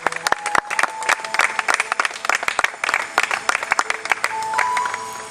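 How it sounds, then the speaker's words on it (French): Church congregation applauding in acclamation, a burst of scattered, fairly loud clapping that thickens into continuous applause. "Acclamons pour la parole du Seigneur."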